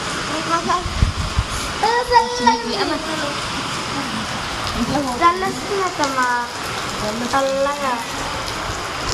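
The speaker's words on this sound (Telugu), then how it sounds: "మాకైతే వర్షం వస్తుంది" Heavy rain falls in a steady broadband hiss throughout, with voices or calls rising above it in short bursts.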